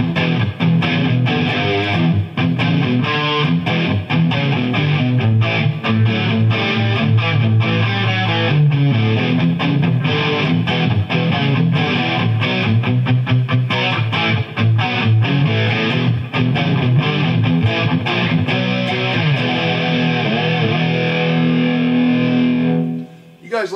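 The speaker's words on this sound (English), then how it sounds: "Let's see what reverb sounds like with this thing." Heavily distorted electric guitar played through a Marshall TSL and a Peavey 5150 amp in stereo with added reverb, a loud sustained riff of chugging chords and ringing notes that runs continuously before cutting off at the end.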